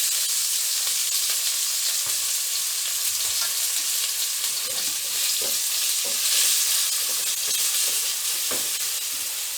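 Onion, green chili and ginger garlic paste fry hard in hot oil for a spicy fish curry, a loud continuous sizzle broken by scattered pops and stirring scrapes, with no talking.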